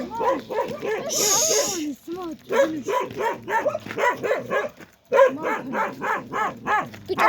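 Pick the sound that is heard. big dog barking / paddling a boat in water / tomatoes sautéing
big dog barking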